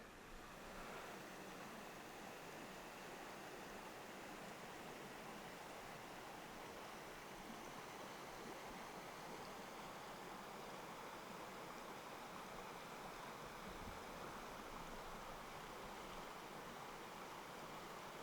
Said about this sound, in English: This is actually the same creek that went over the waterfall several miles downstream. It's called Vermillion Creek.